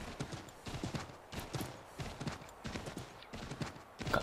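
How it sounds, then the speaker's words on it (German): A horse galloping across open country in Assassin's Creed III, with steady, rhythmic hoofbeats at close range and a brief louder thump at the very end. "wir reiten jetzt mal querfeld ein"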